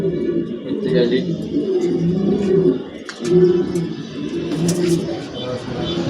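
Many pigeons kept in cages, soft cooing from the birds running beneath someone talking and surrounding street bustle, moderately close.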